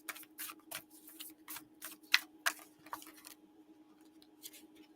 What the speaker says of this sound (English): These cards are so hard to shuffle.